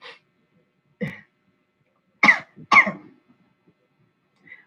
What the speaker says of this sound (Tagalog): Parang inuubo ako